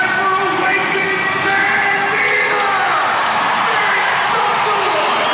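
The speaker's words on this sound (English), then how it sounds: "The crowd absolutely electric here, enjoying every second of it." An ice hockey arena crowd cheers and yells during a goalie fight, a loud, continuous roar of whoops and shouts with voices rising and falling, steady from start to finish.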